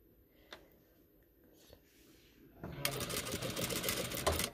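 A sewing machine stitches a backstitch on the fine hem of a hijab, first a few faint clicks, then a loud, steady close burst of fast whirring stitching.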